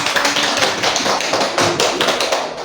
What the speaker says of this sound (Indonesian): Oke, berikan aplaus.